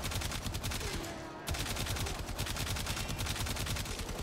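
Rapid automatic fire from the Tiberon Prime rifle in Warframe, a steady, close, loud stream of evenly spaced shots that stops for a moment around a reload, then continues unbroken.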